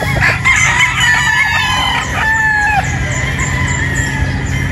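Several battle stag cockerels crow on a farm, long overlapping calls rising one after another at close to middle distance over a steady background hum.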